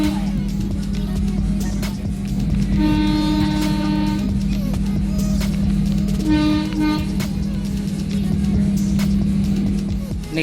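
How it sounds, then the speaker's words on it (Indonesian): The Minangkabau Express airport train in Padang pulls away from a station stop, a steady loud engine drone with rising and falling motor whines as it picks up speed, heard from inside the carriage. "Nah, keretanya udah mulai jalan lagi, siap melanjutkan perjalanan menuju stasiun bandara."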